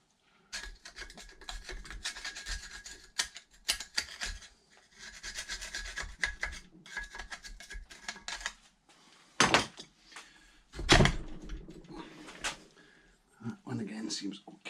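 Scrubbing rust and crud off Kawasaki Zephyr 750 engine parts gives bursts of steady rasping and rubbing. Louder knocks and clunks come near the end.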